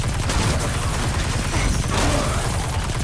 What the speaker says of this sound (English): So those are the flak cannons.